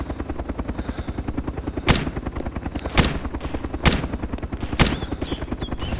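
Gunfire in Arma 2 DayZ Overpoch: four sharp, loud shots at roughly one-second intervals ring out over a steady rhythmic engine drone, likely a Black Hawk helicopter, with no talking.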